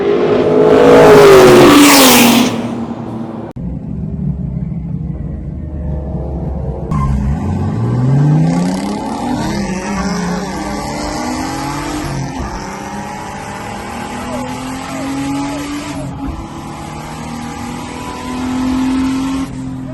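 A modified drift car at a roll racing event, its engine loud and close, revving hard through rising and falling gear pulls with a long sustained roar.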